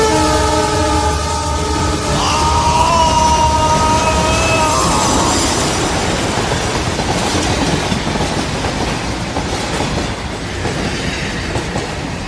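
A train rumbles past at night on the tracks, its horn blaring a sustained chord before fading while the wheels keep clattering loudly nearby.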